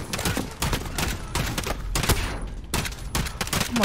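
Rapid, overlapping gunfire bursts in a Modern Warfare campaign firefight, with loud cracks in dense clusters and short gaps, close and sustained throughout.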